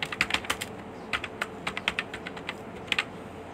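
Someone types on a computer keyboard while entering details into an online form. The key presses come close and crisp, in quick irregular bursts with short pauses.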